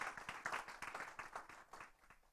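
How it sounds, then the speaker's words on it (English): Audience at a Western Balkans women entrepreneurs event clapping for a speaker, a faint, fairly distant round of rhythmic hand claps that gradually thins out. "Let's give her a round of applause"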